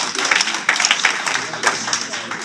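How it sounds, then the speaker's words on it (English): At a comic convention awards ceremony, the audience claps for an award presenter, a brief ripple of hand claps mixed with crowd murmur and some talking underneath, fairly close and moderately loud. "Big round of applause for Jeffrey."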